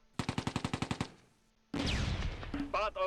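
Rapid burst of about ten evenly spaced gunshots from the WWII strategy game Close Combat II, followed by a pause and then a louder mix of battle noise and further shots.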